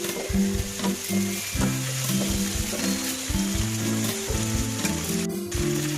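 Onions, carrot, tomato, chilli and curry leaves frying for sambar, a steady, close crackling sizzle that runs throughout, with low pulsing background tones and no one talking.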